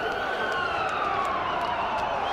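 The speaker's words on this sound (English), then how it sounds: "Ambulance siren!" A loud wailing siren sweeps up and down continuously, close and dominant, with faint background noise beneath it.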